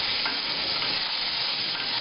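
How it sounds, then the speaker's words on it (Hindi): Lotus root sizzles and fries with masala in a pan while being stirred, a close, continuous crackle with occasional scraping. "हमको 10 मिनट तक लोटस रूट को मसाला के साथ इस तरह फ्राई करना है।"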